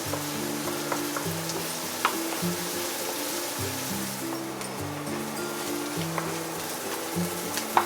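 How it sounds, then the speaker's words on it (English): Steady sizzle of garlic and onion stir-frying in a pan, with occasional scrapes of a spatula over a continuous hiss and a low hum underneath. "Stir for a while until the garlic and onion a bit brown to leave the flavor."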